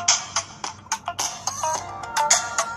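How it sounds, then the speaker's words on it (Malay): Ringtone melody played through a smartwatch's small speaker, a bright series of repeating electronic tones in a short phrase, fairly loud and clear with no talking. "Ini sound daripada smartwatch tau, bukan daripada handphone."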